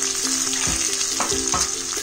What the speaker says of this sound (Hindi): अब इसके अंदर एक प्याज जो मैंने फाइनली चॉप करके रखा हुआ था